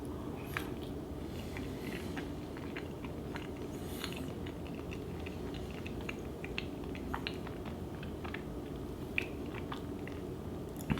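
Someone chews a banana close to the microphone, with soft, steady wet mastication and faint squishy bites over constant low background noise, and no talking.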